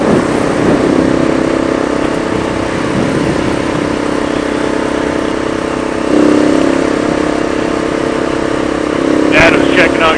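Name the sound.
motorcycle engine and exhaust while riding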